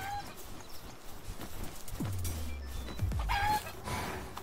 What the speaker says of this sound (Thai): ขอตีไก่ก่อน